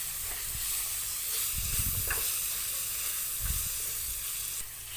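Chopped capsicum and a medium tomato stirred together in a hot pan, a soft continuous sizzle broken by a few low scraping strokes of the spatula, close and fairly quiet with no talking.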